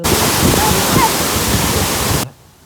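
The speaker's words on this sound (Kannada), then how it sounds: "ನಮ್ಮ ಹಳ್ಳಿ ಸೈಡದ್ದು ಫಾಲ್ಸ್ ಇದ್ದಾವೆ ಯಾವುದೇ ಫಾಲ್ಸ್ಗೂ ಕಮ್ಮಿ ಇಲ್ಲ ಅನ್ನೋ ಥರ ಇದೆ" Village waterfall in Mandya district roaring as a loud, steady rush of falling water close by, cutting off abruptly near the end.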